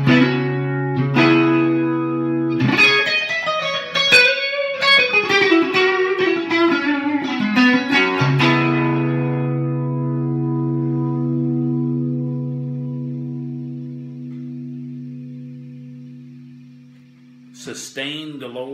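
A Fender American Elite Telecaster Thinline electric guitar plays a run of bright picked notes and chords, then a long sustained note rings out and slowly fades, with a short burst of playing at the end.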